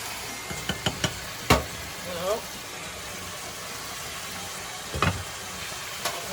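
Shrimp cooking in a pan for shrimp a la diabla, a continuous close sizzle broken by a few sharp utensil knocks and scrapes, with brief speech.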